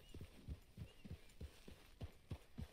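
Horse hooves clip-clopping in Red Dead Redemption 2, a steady run of about nine close, fairly loud thuds at an even walking-to-trotting pace, heard alone without talk.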